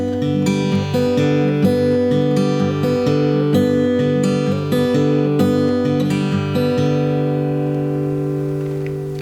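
An acoustic guitar plays a Travis-style fingerpicking pattern, with the thumb alternating bass notes under pinched treble notes in a steady even rhythm that rings out clearly and fades at the end.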